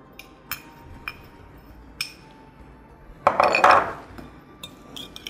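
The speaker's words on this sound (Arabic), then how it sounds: "تقليبة بسيطة كده" Spoon clinks a few times against a bowl of date salad, then a short, louder burst of stirring and scraping as the salad is mixed before it settles back to quiet.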